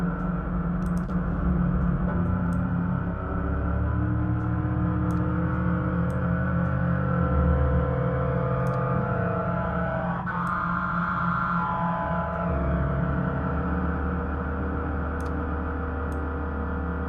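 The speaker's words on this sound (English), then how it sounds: "Here's a noise music track." Dense, continuous noise music track with heavy low rumble, layered droning textures and a sweeping swell near the middle, with occasional sharp high clicks, loud and unbroken throughout, no voices.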